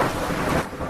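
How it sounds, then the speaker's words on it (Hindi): Steady heavy rain with a low rumble of thunder, a dense continuous wash of sound lasting under a second, loud and close. "3 दिन बीत गए लेकिन अभी तक बारिश बंद नहीं हुई।"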